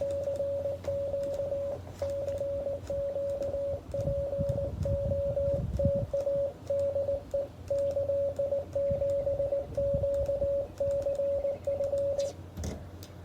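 Morse code CW signals come in on an amateur radio during a POTA activation, a steady, clear tone keying out rapid dots and dashes over soft background static, close and continuous.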